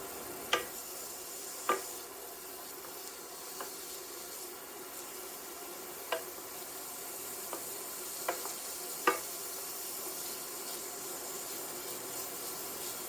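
Diced red onions cook in a skillet under a quiet, steady sizzle, while a wooden spoon scrapes and taps the pan now and then in sharp, separate knocks.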